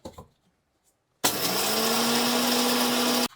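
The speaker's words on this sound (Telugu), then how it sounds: "మనం వీటిని మిక్సీ పట్టుకోవాలా" Mixer grinder grinding roasted gram, cumin and salt into masala powder: after a brief quiet pause the motor switches on abruptly into a loud, steady high-pitched whir lasting about two seconds before cutting off.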